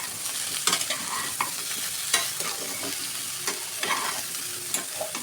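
Vegetables with eggplant stirred and frying in a pan for milk shukto, a steady close sizzle with repeated scraping stirs of the spoon throughout.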